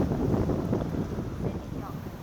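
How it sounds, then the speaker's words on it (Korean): Strong wind buffeting the microphone on an outing in the ancient water town of Wuzhen near Shanghai, with boats close by. It is a steady, loud, low rumble lasting the whole time. "바람 많이 부네"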